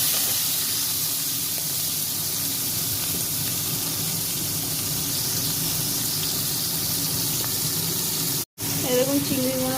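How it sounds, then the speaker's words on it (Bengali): Prawns fry in mustard oil in a wok with a dense, constant sizzle and spatter that runs almost without a break, cut once by a brief silence near the end before the frying resumes. "এবার চিংড়ি মাছগুলো ভেজে নেব। চিংড়ি মাছগুলো ভেজে নিচ্ছি।"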